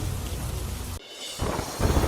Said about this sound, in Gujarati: ગોંડલમાં સતત ત્રીજા દિવસથી ધોધમાર વરસાદ